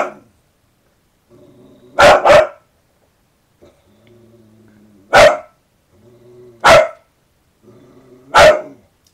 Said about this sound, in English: There isn't a video I own that doesn't have Alfie barking his socks off